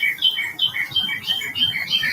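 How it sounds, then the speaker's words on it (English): Birds chirping outdoors at night, a steady string of bright, repeating two-note calls, fairly close and loud, with a faint low rustle underneath. "The squirrels and the birds are all talking tonight, so it's really pretty."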